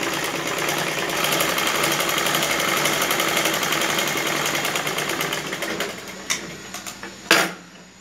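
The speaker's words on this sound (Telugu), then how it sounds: "ఒక కుట్టు కుట్టుకున్నామండి" Sewing machine stitching pant fabric runs as a fast, steady mechanical whir close by, slowing toward the end with a few sharp clicks and stops.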